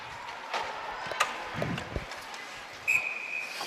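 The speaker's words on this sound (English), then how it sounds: "And the whistle blown, icing the call." A referee's whistle sounds at a varsity girls' ice hockey game for an icing call: one sharp, steady blast near the end, over the faint murmur of the rink crowd.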